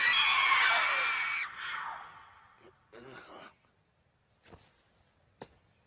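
A mandrake, a medicinal herb, lets out a loud, shrill scream as it is pulled from the ground, the cry fading within a second or two, followed by a few quieter rustles and a sharp thump.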